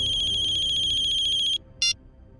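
A phone ringtone plays a bright, repeating electronic melody for about a second and a half, cuts off, then sounds one more short burst before falling silent.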